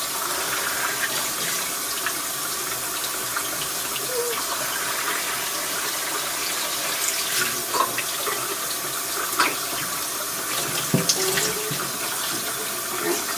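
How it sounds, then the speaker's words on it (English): Running tap water pours steadily over a whole raw chicken being rinsed in a sink, a continuous moderate splash with a few brief clinks and knocks and no talking. "Just to make sure I rinse it, flush it really good."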